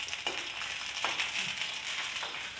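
Fuchka puris frying in hot oil, a steady broad sizzle with faint crackles and a few soft bursts as the dough puffs, fairly quiet and continuous with no talking.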